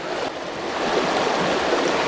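Water rushes loudly and continuously through a sluice box used for gold prospecting, a steady close wash of turbulent flow with no voices over it.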